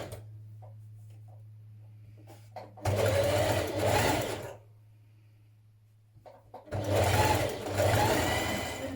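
A sewing machine runs in two steady stitching bursts on stretch knit fabric for a knit dress, with a quiet pause and a low hum between them.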